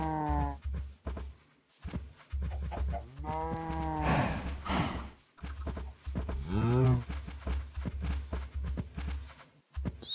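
Cows mooing in a video game, several drawn-out bovine calls close up, one after another with short gaps, over a steady low game background hum.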